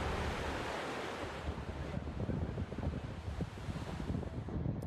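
Waves on the River Seine in Paris wash around a boat, a steady broad rush of water and surf with wind noise buffeting the microphone, loud and close without any talk.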